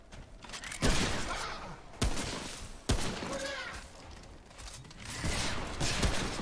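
Hunting rifle shots in the game Remnant: From the Ashes, a few sharp separate reports spaced a second or so apart over dense combat noise, with a loud close crack near the middle.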